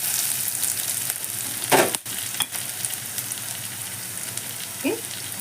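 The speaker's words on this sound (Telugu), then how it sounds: "2 రెమ్మల కరివేపాకు మంచిగా వేయించుకుందాం" Curry leaves fry in hot oil as tempering for Andhra gongura dal, a steady close sizzle broken by a couple of sharp stirring clatters.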